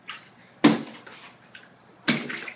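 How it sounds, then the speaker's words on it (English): Baby splashing water in a bathtub, with two loud, close bursts of splashing separated by quieter sloshing and drips. "Who's splashing in the tub?"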